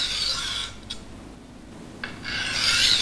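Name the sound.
knife sharpened on coarse Norton crystalline silicon carbide stone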